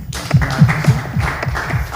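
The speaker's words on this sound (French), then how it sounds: "Très bien dit, on l'applaudit quand même." Scattered audience applause during a talk show panel, a few close hands tapping in an uneven rhythm, thin and brief rather than a full ovation.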